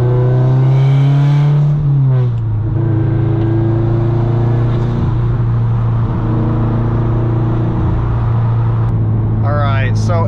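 A Subaru STI cruises on the freeway with a loud, steady engine drone from inside the cabin and a brief shift in pitch early on. A voice talks over it.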